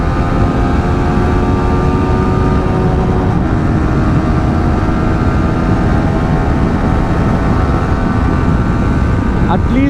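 A Yamaha R15 V4 motorcycle running at top speed, a loud, steady engine drone with sustained high-pitched whine and heavy wind roar, no gaps.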